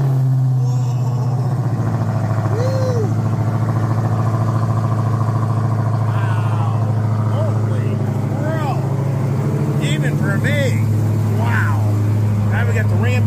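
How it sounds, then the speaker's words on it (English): A Honda Talon side-by-side engine idles with a steady low rumble, revving in short bursts, while people talk nearby. "Let's listen to this car start up."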